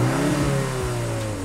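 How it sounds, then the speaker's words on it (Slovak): A 2024 BMW X2 M35i engine revs through its quad exhaust tips, two quick throttle blips rising and falling before the pitch climbs steadily, loud and close with no talking. "Teraz sa ale dobre započúvajte do zvuku, ktorý vychádza zo štvorice reálnych koncoviek výfuku."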